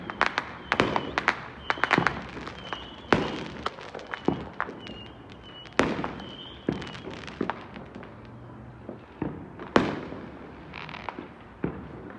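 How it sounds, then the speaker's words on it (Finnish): Fireworks explode across the sky on Christmas night in the United States: a dense, irregular series of sharp bangs and crackles, some near and loud, others distant, with no talk. "Täällä on taivas täynnä raketteja joka puolella."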